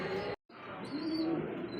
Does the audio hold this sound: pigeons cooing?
yes